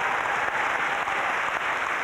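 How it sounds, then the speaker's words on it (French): A studio audience at a Miss France 1996 pageant broadcast applauds, steady dense clapping throughout with no talk. "On va applaudir encore une fois."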